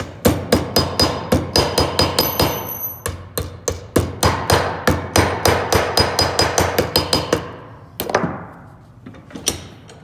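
A hammer flattens metal H-clips for a Conibear trap support, landing a long run of sharp, evenly spaced metallic blows close by, then a short pause and a few last strikes.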